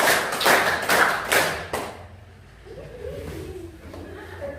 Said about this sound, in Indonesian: Kita main tepuk tangan